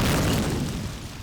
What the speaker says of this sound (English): Fiend again is going to go with a nade throw.